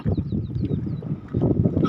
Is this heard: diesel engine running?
yes